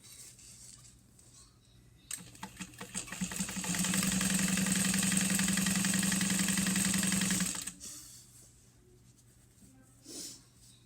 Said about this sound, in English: So we're going to sew this at a 3/8 of an inch seam allowance now.